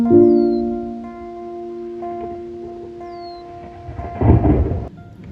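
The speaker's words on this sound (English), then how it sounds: "we just started getting some crazy rain, crazy lightning and thunder" A thunderstorm with heavy rain, steady rainfall throughout and a loud rumble of thunder building near the end, with a faint tonal hum running underneath.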